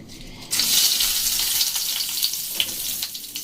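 Whole spices, a dry chili, bay leaves, cardamom, cloves and cinnamon, hit hot oil with a sudden loud sizzle that bursts in and keeps crackling up close, fading slightly with small pops.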